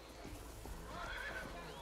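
A horse neighs in the strategy video game ARA History Untold, a quiet whinny with faint hoof clops beneath it, fairly soft in the mix.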